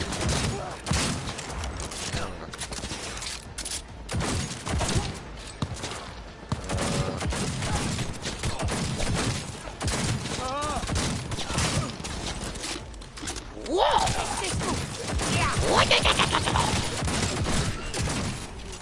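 Gunfire in Cyberpunk 2077, repeated bursts and sharp shots scattered through a busy action scene with mechanical clatter and a loud swell near the end, with brief voices underneath.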